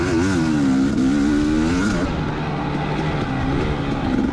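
Off-road racing motorcycles ride hard in a sandy race, one rider passing another, engines revving loud and near with a rising, falling pitch that settles into a steady drone.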